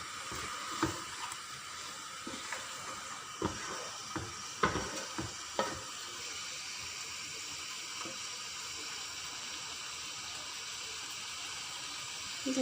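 Mutton trotters stirred and frying with spices in a pan, a steady low sizzle broken by a few sharp spoon scrapes early on, then quieter continuous frying.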